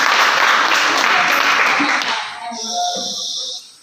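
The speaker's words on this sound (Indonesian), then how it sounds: "Tepuk tangan untuk kelompok eritrosit." Applause from a classroom of students follows a group called up to present, a dense burst of clapping that fades out after a couple of seconds as the room settles.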